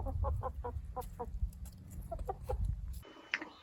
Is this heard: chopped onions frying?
no